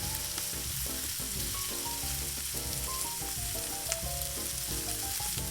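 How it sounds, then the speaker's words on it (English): Marinated shrimp fry in olive oil in a frying pan, giving a loud, constant sizzle that holds steady from start to finish, with faint melodic music underneath. "I'm gonna add the olive oil as well as the marinated shrimp"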